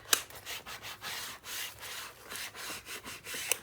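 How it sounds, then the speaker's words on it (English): A bone folder burnishes paper on a scrapbook album page, making quiet, steady back-and-forth rubbing strokes close to the microphone with a couple of sharper scuffs. "Make sure I get a good burnish on this thing."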